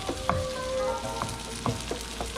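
Tomatoes sautéing in a hot pan for tinolang isda, a steady soft sizzle with a few faint clinks of a spatula stirring, close and moderately quiet.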